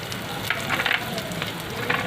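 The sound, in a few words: spices being roasted in a pan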